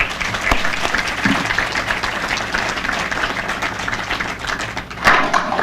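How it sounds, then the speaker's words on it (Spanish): An audience at a public forum on security and crime prevention claps steadily and loudly throughout, a dense wash of applause filling the hall. "para el que pido un fuerte aplauso."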